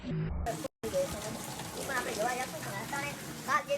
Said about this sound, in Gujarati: વરસાદ ધોઈ નાખે એવો ચાલુ થઈ ગયો